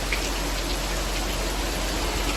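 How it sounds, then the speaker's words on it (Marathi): Heavy rain pouring steadily, a dense, continuous hiss of drops on surfaces with no voices. "पाऊस एवढा पडतोय"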